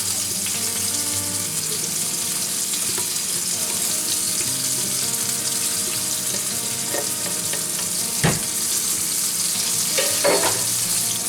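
Dutch baby batter pours into a hot buttered pan, giving a steady frying sizzle throughout with a few brief knocks and scrapes near the end and no talking.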